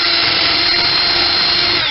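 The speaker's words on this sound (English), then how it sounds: "Screw right in here where that cleat is." A power drill drives a screw into a wooden cleat, a loud close high-pitched motor whine held steady for the whole moment without pause.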